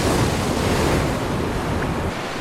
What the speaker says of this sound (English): Saul, all I hear is thrashing waves